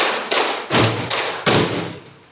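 In a classroom clapping game, a group claps together in sharp, loud bursts: a few distinct unison claps spaced evenly about half a second apart, each ringing briefly in the room, with no talk over them.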